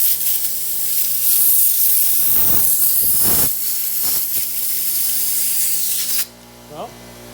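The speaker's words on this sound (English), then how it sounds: "A little air pressure to test it." Compressed air hisses loudly and steadily into freshly brazed air-conditioning lines for a pressure leak test, with short bursts on top and a voice partly under it, then cuts off abruptly near the end.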